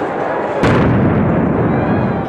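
An explosion during the Boston Marathon bombing bursts suddenly into a loud, broad roar that rumbles on for over a second and a half.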